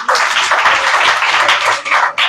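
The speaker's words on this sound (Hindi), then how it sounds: "ताली बजाओ इसके लिए।" Students in a classroom break into applause together, a dense burst of clapping from a group that carries steadily for a couple of seconds, moderately loud and close, with no talk over it.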